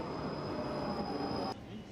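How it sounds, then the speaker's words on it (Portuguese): A tram pulling into a stop in Wrocław, Poland, with a close, steady mechanical rumble and a high whine that cuts off abruptly near the end as it halts. "A placa eletrônica informa os horários de chegada e o trem chega na hora"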